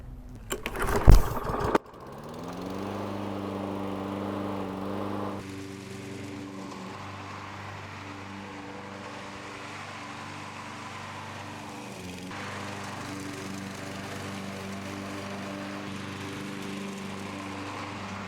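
A lawn mower on a seasonal grass-cutting job gives a brief clattering start, then its engine runs at a steady, even drone for the rest of the stretch.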